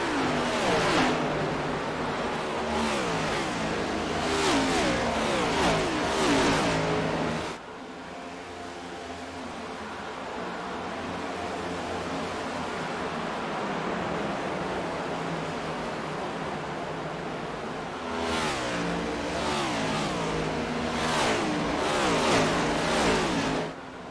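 Stock cars race at Homestead-Miami Speedway in a racing video game, a dense pack of engines droning and whining together; the roar drops briefly mid-clip, then swells loud again as cars sweep past.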